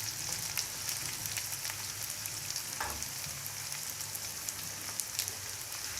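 Chopped onions sauté in oil in a pan for a tinda masala bhujia, giving a steady, even sizzle and crackle like light rain, heard close with no talk.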